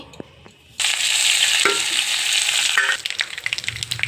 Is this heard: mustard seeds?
yes